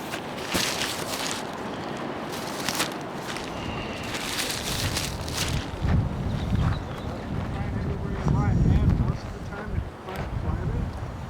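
Gusty wind buffets and flaps a budget camping tent at a fishing campsite, in uneven surges and rustles, while someone talks over it.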